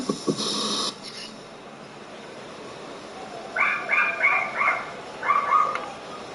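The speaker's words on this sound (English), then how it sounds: "Yeah, it's my dog." A dog barks in short bursts, a few quick yips grouped in two clusters, moderately close, with no talking over them.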